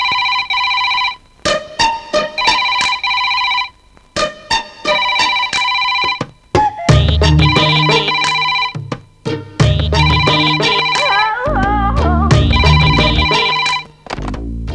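A telephone rings repeatedly in a Telugu comedy film scene, loud bursts of electronic ringing separated by short gaps, later layered with music and thumps.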